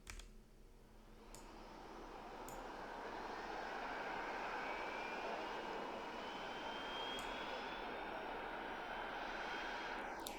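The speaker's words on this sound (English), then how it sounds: "I'll start the engine by pressing E." A jet aircraft engine spools up in the Roblox Novus Flight Simulator game, a steady rising roar that swells over the first few seconds and then holds loud and even, with a few faint clicks and no talk.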